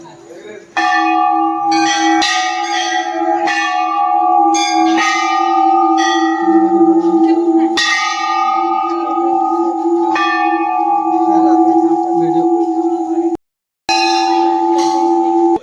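Large bells at the Maa Ghanteswari temple in Sambalpur, Odisha ring loudly and continuously, with repeated strikes and a sustained ringing hum that drops out briefly near the end.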